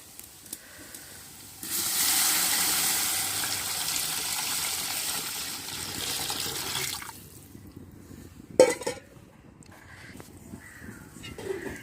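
Water and coconut milk pour into a cooking pot for rice, a broad rushing hiss building for several seconds, then dropping to quiet with a brief clatter and faint background sounds.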